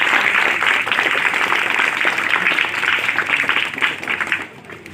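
An audience at a foundation day celebration applauds, with dense, steady clapping from many hands that fills the room and tapers off near the end.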